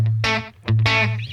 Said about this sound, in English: Let's go a little bit of slapback delay.